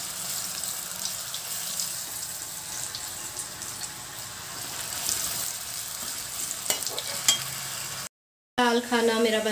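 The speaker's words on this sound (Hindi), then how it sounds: "सबसे पहले बैंगन फ्राई कर रही हूँ" Eggplant frying in a pan on a home kitchen stove, a steady broadband sizzle continuing throughout at moderate level, with some clatter near the end and a brief voice at the very end.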